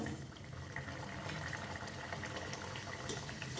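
Sweet gurvalya dough sizzles and bubbles steadily in hot oil, a continuous crackling hiss with small pops, fairly faint and close, without talk.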